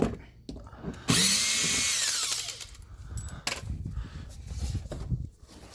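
Cordless power driver with a Torx bit whirring as it backs out bumper clips on a 2021 Chevrolet Traverse, a loud sustained spin of about a second followed by quieter handling and clatter.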